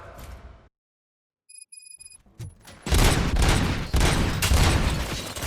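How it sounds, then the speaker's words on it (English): After a brief silence and a few electronic beeps, a loud burst of rapid gunfire erupts in the video game Robocop: Rogue City and keeps rattling, dense and close. "Gunshots? What's going on?"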